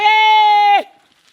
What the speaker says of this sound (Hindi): ओ खसी बकरी छागर पाठी बच्चा पठरू हम यहाँ तो जरूर छे होना चाहिए